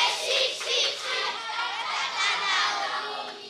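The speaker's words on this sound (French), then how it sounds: "Est-ce qu'on peut l'applaudir bien fort?" Children and adults in an audience clap and cheer after a children's ballet performance, a lively, moderately loud burst of applause mixed with excited young voices.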